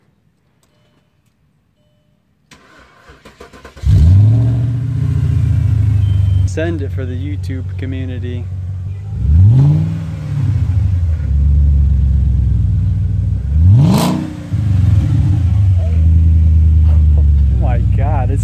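A C5 Audi A6 4.2 V8 with its mufflers cut off cranks and starts, then settles into a deep loud idle, broken by three sharp revs, while people talk over it.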